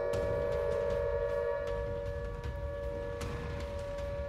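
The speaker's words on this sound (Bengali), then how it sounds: "এখন সাইরেন বাজে জম্মু শহরে" A civil-defence air raid siren in Jammu city wails with a steady, sustained tone, fairly faint and distant, over a low rumbling urban background with occasional clicks.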